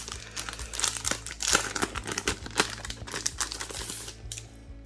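A small-format illustration book being unwrapped, with close, crisp crinkling and tearing of plastic wrap in rapid irregular bursts, fairly quiet and with no talking.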